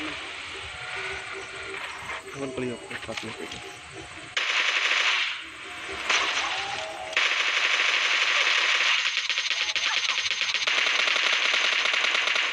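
Automatic gunfire from a Groza assault rifle in the PUBG Mobile Lite battle royale game, sustained rapid bursts that run almost the whole time, loud and dense, with a brief lull partway through.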